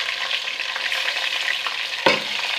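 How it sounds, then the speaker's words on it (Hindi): Beef frying with browned onions in a pot for nihari, a steady close sizzle and crackle throughout, with a single sharp clank of a utensil near the end. "गोश्त को हम इतना भूनेंगे कि गोश्त की रंगत है वो वाइट हो जाए"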